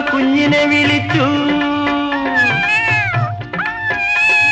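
A singer's voice imitates a cat meowing in a Malayalam children's song about a mother cat calling her kitten, with drawn-out, wavering meow-like notes carried loud and close over light musical accompaniment.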